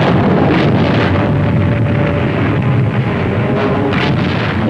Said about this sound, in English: Their coastal guns opened fire on the Dragoon Task Force.